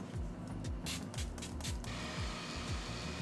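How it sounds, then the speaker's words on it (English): Several quick hissing spritzes from a makeup setting spray bottle burst close by, about five short puffs in a row, over a background of mechanical humming. "For the setting spray, of course, I'm going to use the Gerard Cosmetics one."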